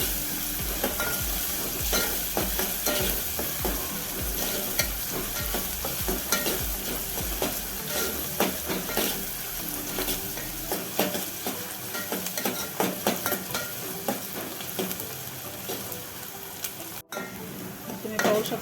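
Chopped onion frying in a pan for a spicy chicken rassa, a steady close sizzle with repeated stirring scrapes and light utensil clinks throughout, no voices.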